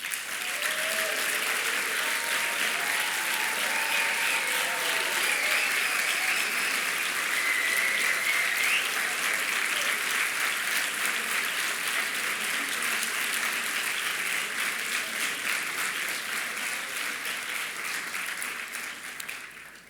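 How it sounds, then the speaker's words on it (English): An audience at a graduate commencement ceremony applauds student council members, a steady, even wash of clapping that lasts about twenty seconds with no break and fades slightly at the very end. "we can give you a round of applause"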